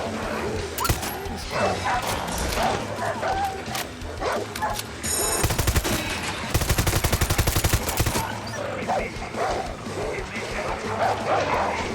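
A dog barks in Far Cry 6 among gunfire and busy game sound effects, with several sharp bursts and a rapid volley in the middle, all loud and dense.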